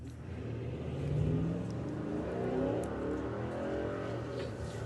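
A C4 Corvette revs at a Santa Pod drag race, its engine note swelling and holding as a steady mid-range roar heard from a moderate distance, with no talking.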